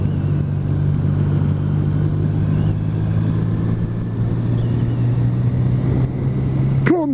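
A motorbike rides along a country road near an old church, its engine holding a steady, loud drone throughout with a brief rising whine near the end.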